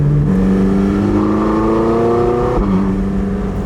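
A Porsche 918 Spyder engine hums along at low revs under 3,000 RPM while cruising, its pitch rising gradually before dropping back, loud and close with no voices.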